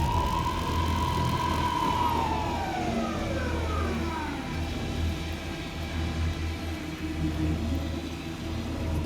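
A police car siren in the Alan Wake 2 video game wails steadily over a low engine rumble, its pitch sweeping downward as it passes and fades into the distance.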